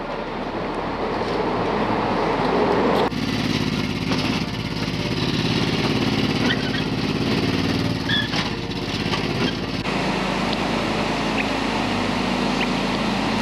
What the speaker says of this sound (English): The mower we're hearing is Bill mowing the lawn for the neighbors